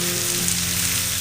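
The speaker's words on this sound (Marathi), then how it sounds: "तर आपल्याला हा कांदा आहे तो चांगला मस्त फ्राय करून घ्यायचा आहे" Onion frying in a kadhai, a steady, close hiss and sizzle of hot oil that carries on unbroken with no voices.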